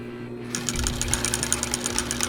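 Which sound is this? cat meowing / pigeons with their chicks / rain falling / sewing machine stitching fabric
sewing machine stitching fabric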